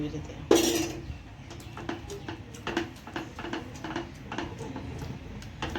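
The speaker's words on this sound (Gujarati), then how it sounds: "આવી રીતે આમ હલાવતું જવાનું, ઘી નાખતું જવાનું." A metal spoon scrapes and clinks against a pan in repeated, uneven strokes as a thick Mysore pak mixture is stirred with ghee, with faint voices in the background.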